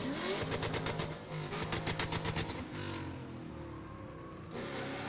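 Drift car engine revving hard near the end of a drifting course as the car spins out, a loud rhythmic pulsing roar with tire noise, then dropping to a lower steady rumble.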